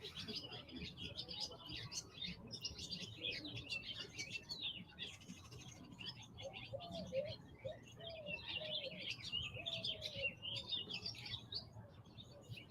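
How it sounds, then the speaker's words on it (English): Morning birdsong in Mexico, with many birds chirping and twittering close by and a few lower dove-like coos mixed in, continuous over faint background noise. "That's my alarm clock. Birds chirping."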